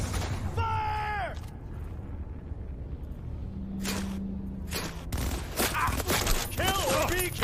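Gunfire in the video game Cyberpunk comes in several loud, separate bursts with short pauses between, while shouted character voices break in at the start and near the end.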